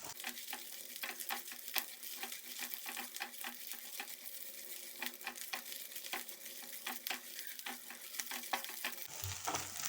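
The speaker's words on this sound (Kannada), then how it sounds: "ಹಾಗೆ 1 table spoon ginger garlic paste ತಗೊಂಡಿದ್ದೇನೆ, ಹಾಕೊಳ್ಳುವ. ಇದು ಹಸಿ ಸ್ಮೆಲ್ ಹೋಗುವವರೆಗೆ ಸ್ವಲ್ಪ ಫ್ರೈ ಮಾಡ್ಕೊಳ್ಬೇಕು" Ginger garlic paste frying in a pan for a spicy Indian-style chicken pasta, a close, crackling sizzle with rapid spattering pops and a few stirring scrapes, quiet and steady, no one speaking.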